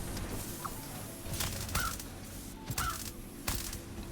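A bird taken out in a video game gives a few short, raspy, crow-like caws spread across the moment, mixed with sharp impact bursts over a constant background hum.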